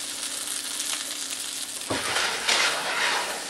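Chicken frying in olive oil in a pan, a soft continuous sizzle that thickens into a brighter, louder crackle partway through, with faint clinks of the pan.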